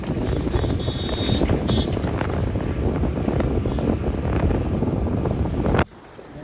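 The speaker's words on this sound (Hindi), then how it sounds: "आज बहुत ठंडी हवा चल रही है" Cold wind buffets the microphone while riding a scooter to a busy market, a loud steady roar of rushing air that runs unbroken for several seconds, then drops away abruptly near the end.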